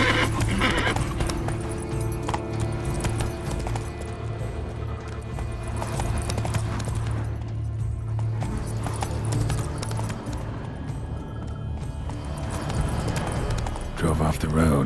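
Roach, a horse in The Witcher 3 video game, gallops and neighs with steady clip-clop hoofbeats, dense and loud throughout, mixed with game music and ambient sound, with a voice speaking briefly.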